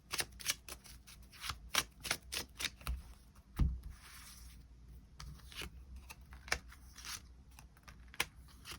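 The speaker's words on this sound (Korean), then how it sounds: "추가 카드 뽑아보도록 하겠습니다" Tarot cards are shuffled and drawn in a quiet room, a run of crisp riffling slaps and soft flicks with one heavier thump partway through, close and alone with no talking.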